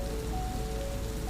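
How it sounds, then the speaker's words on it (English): Steady rain falling on a surface, a soft even wash of drops with no other sounds, continuous and unbroken over a short stretch. "The rain was starting to let up."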